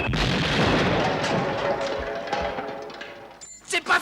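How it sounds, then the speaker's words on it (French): A grenade goes off in a French action drama, a loud rumbling blast that rolls on for about three seconds and then trails into a few sharp knocks. "Grenade!"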